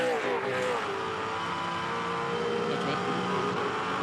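Race cars in a motor race battling closely for position, a steady droning engine whine with shifting pitch heard at a distance under continuous commentary.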